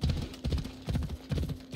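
A horse in Assassin's Creed Odyssey trots with a rhythmic clip-clop of hooves, four quick grouped beats repeating steadily and close by, with no talk over it.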